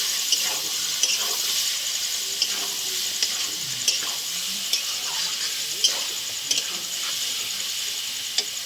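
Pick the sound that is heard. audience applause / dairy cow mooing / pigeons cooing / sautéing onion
sautéing onion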